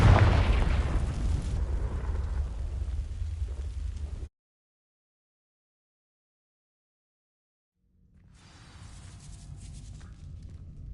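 In Hogwarts Legacy, a Confringo fire spell ignites dry vines with a loud, roaring blast of flame that cuts to sudden silence, then a rumbling burn returns.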